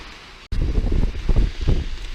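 Strong gusty wind on Lookout Mountain, Colorado, buffets the microphone with rumbling bursts after a brief quieter moment, with flags flapping.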